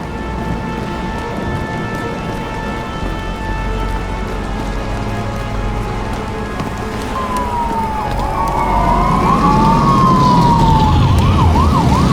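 A police car siren in a video game wails in steady rising and falling sweeps, growing louder as it draws near, over a constant background of rain.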